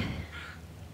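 A single crow caws outdoors, a faint, harsh call sounding over a steady background hum during a yoga class.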